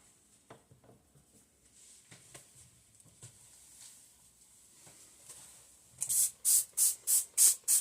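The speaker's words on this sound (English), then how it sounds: "I'm spraying my towel so I can clean up my mess" A handheld spray bottle mists a kitchen towel for wiping up a cooking mess; faint rustling and handling noises give way to a close, rapid run of about seven sharp, hissing spritzes.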